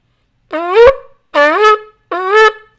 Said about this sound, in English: The second sound is called Shevarim.